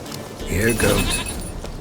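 A stubborn goat in The Witcher 3 gives a single short, quavering bleat, fairly close and loud, overlapping someone speaking.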